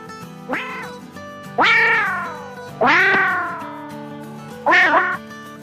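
A cat meows four times, loud and close, with drawn-out, falling cries separated by short pauses.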